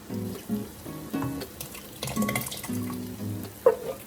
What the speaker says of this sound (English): we're back over here with our sauce because I can hear it bubbling